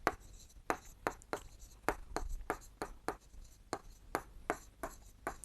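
Pen or chalk writing out the solution to a class 7 maths area problem, a steady series of scratchy strokes in quick irregular rhythm, close and fairly loud, with no speech over it.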